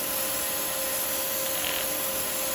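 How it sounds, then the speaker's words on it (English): Wood being sanded on a woodturning lathe with the dust extractor off, giving a constant loud rushing, rubbing hiss with a steady motor whine underneath and no talking. "Now I've purposely not put the dust extractor on, just so you can see that is sanding."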